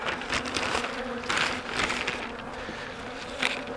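A tiny swarm of honey bees buzzing steadily at close range, a dense, continuous drone with slight swells in loudness.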